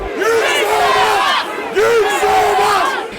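Angry protest mob clashing with police at Parliament House in Australia, a dense roaring crowd with loud yelling and battle-cry shouts rising in two surges, sustained and close throughout.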